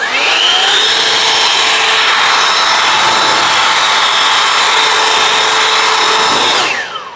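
A handheld air blower on its turbo setting dries a car after a ceramic coating, giving a loud continuous rushing roar with a whining tone that runs about six and a half seconds before cutting off.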